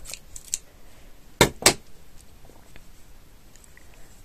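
Sharp scissors cutting macrame cord for a crafted angel ornament, with two quick crisp snips close up, a few faint clicks and rustles around them in an otherwise quiet room.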